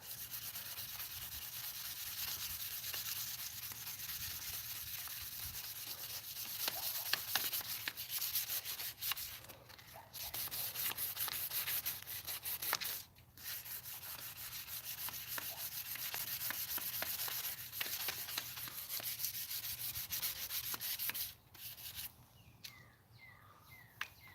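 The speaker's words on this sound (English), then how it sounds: "A little sandpaper. Get this sticky stuff off." Sandpaper rubs off sticky duct tape residue from a Stihl PP800 telescoping pole saw, a close, continuous scratchy rasp in quick back-and-forth strokes with a few short pauses.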